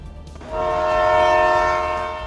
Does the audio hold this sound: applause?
no